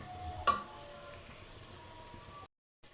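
Whole cumin seeds frying in hot oil for chicken biryani, a soft steady sizzle with a brief bright crackle near the start, quiet and continuous before cutting to silence.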